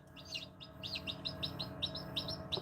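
Newly hatched chicken chicks chirping nearby in a rapid series of thin, high peeps, faint but continuous over a low background hum.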